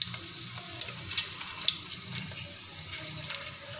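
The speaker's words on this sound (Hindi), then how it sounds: "और सब पापड़ों को ही हम इसमें डाल के और ऐसे ही इसमें डीप फ्राई हम इन्हें करेंगे थोड़ा हिलाते हुए" Papad deep-fries in moderately hot oil while being stirred, giving a steady close hiss and bubbling sizzle with small crackling bursts throughout and no talk.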